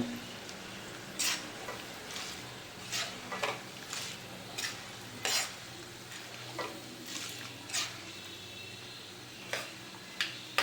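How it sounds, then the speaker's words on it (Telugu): Tempering spices sizzle softly in a pan of hot oil on a gas stove while a spoon stirs them, giving repeated sharp metallic clinks at an uneven rhythm over a low, quiet frying hiss; no voices. "తాలింపు బాగా వేగనివ్వండి చక్కగా"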